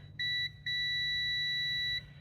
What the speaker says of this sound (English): Good, nice loud buzzer.